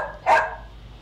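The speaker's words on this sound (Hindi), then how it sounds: "जब भौंकना हो तो भौंकती नहीं है और बिला वजह भौंकने पर आए तो फिर भौंकने लग पड़ती है" A single sharp bark from a female dog, loud and close, cutting through an otherwise quiet room.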